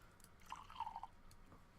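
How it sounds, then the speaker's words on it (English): Whiskey is poured into a glass in a visual novel adaptation of The 39 Steps, a brief, faint gurgling trickle of liquid lasting about half a second in a quiet room. "we're pouring ourselves a whiskey?"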